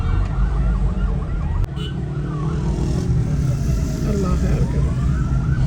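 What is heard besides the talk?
ambulance sirens outside after a suicide attack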